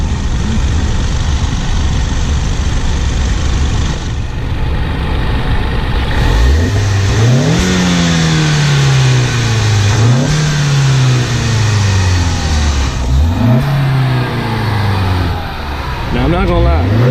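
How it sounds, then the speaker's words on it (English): Turbocharged car engine revving repeatedly in rising and falling sweeps, heard loud and close from the cabin, with a steady background roar and voices talking over it. "So I do love the sound of the turbo on the car."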